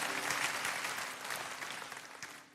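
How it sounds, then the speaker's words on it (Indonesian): A church congregation at a Sunday service claps together in a dense, sustained round of applause that fades slightly toward the end. "Tepuk tangan bagi Tuhan ya."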